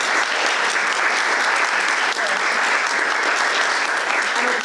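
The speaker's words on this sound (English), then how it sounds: "well-deserved round of applause." A large crowd claps steadily throughout, a dense, continuous wash of applause with no pauses, after a panel discussion at Dalham Hall.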